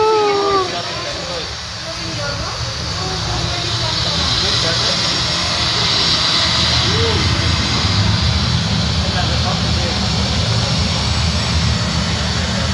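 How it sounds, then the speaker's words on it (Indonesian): At a miniature park airport, a model airplane approaching to land gives a steady, whining engine drone with a hissing roar. The sound stays fairly even and continuous throughout, with people talking faintly underneath. "pesawat yang mungkin lagi akan mendarat"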